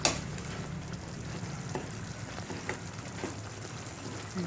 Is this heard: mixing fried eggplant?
yes